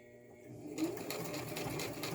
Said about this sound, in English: I'm going to press my back stitch button down, and I'm going to back stitch to the edge of the frontal.